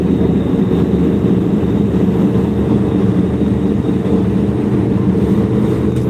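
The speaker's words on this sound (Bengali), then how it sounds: "অনেক বড় লঞ্চটা" Big passenger river launch travelling at night, its engine giving a steady, loud low-frequency drone and rumble that holds constant throughout without any talk.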